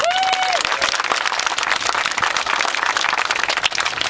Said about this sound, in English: Clap your hands if you love the Constitution.